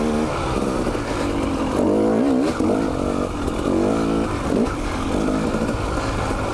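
A 2019 KTM 300 TPI two-stroke dirt bike with an ECU fitted, lugging at low revs on a trail near 10,000 feet, a steady close engine drone with uneven pulsing throb.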